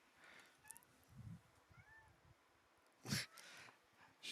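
A pet cat meowing loudly while pacing around its owner's feet, with a few faint cries early, then one strong, close meow near the end over quiet surroundings.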